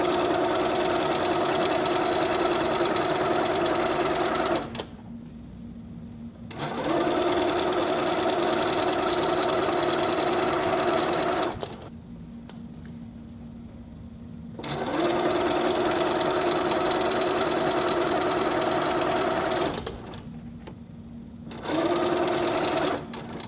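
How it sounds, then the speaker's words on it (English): A sewing machine chain piecing quilt pieces runs in long steady bursts of rapid stitching, stopping briefly between runs, close and loud with no talk. "we'll just keep chain piecing these all together."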